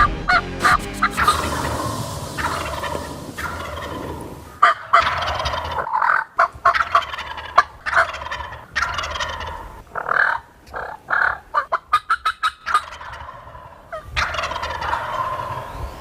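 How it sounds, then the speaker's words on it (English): Wild turkey gobbling in the southern woods during a spring hunt with decoys out, repeated loud rattling gobbles in bursts separated by brief pauses, carrying clearly with no talk over them. "did he do some serious gobbling"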